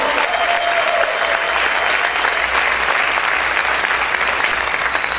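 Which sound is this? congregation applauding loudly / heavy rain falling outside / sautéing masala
congregation applauding loudly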